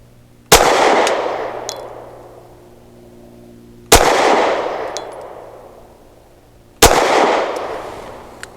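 Three loud, sharp pistol shots from a Taurus TS9 firing Blazer aluminum 115 grain rounds, evenly spaced about three seconds apart, each followed by a long ringing decay outdoors.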